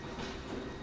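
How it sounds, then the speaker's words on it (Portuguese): Steady, dense rumble and rattle of a steam train running on the early London Underground, heard close and continuous through a brief moment. "Os passageiros viajavam 5 quilômetros num trem a vapor."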